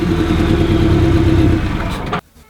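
A Porsche Boxster 718 flat-four engine drones steadily with a throbbing, offbeat low note before cutting off abruptly near the end.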